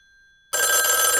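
An old-fashioned telephone bell bursts into a loud, bright, sustained ring after a brief near-silent moment, close by and alone.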